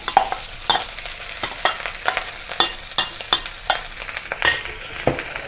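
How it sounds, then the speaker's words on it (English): Leftover rice being stir-fried in oil for Thai basil fried rice, with a loud continuous sizzle and regular, sharp scrapes and clinks of a spatula tossing the rice in the pan. "Add the leftover rice."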